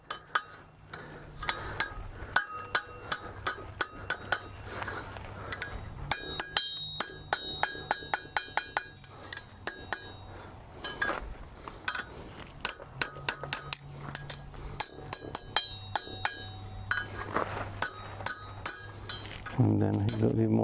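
Hot steel kebab skewers are struck with a hammer on the horn of an anvil, sharp metallic rings repeating in quick irregular bursts with short pauses, close and loud.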